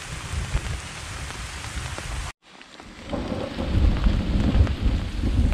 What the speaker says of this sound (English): So the thunderstorms are still banging around.